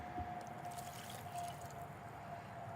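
Water for a homemade deli-container fly trap pours in a steady, soft trickle with faint dripping and gurgling, continuous and fairly quiet from start to finish.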